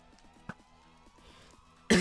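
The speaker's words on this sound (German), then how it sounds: "Und jetzt auch noch husten, ey." A single short cough at mid-clip from a streamer during a live game, followed near the end by a louder, harsh burst of noise.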